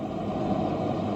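A steady, even whoosh of fan noise, a relaxation sound played from a Divoom MiniToo retro speaker, a constant broadband hum with no breaks, heard alone at moderate loudness.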